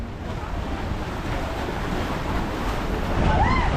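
Sea waves surge and wash on the way to Boracay, a steady loud roar mixed with wind buffeting the microphone, with no talk over it.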